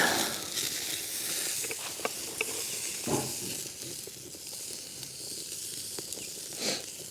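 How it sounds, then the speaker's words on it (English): The fat cap of a tomahawk steak sears in a hot pan, giving a continuous loud sizzle and hiss with small crackles and pops throughout. "Just give it a quick sear on the fat cap and we'll be done."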